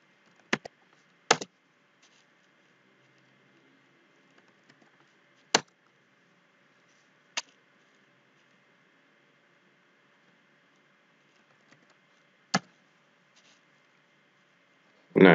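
Computer keyboard keys tapped while entering values in Revit, a handful of isolated sharp clicks spread out across near silence, with a final louder clatter at the end.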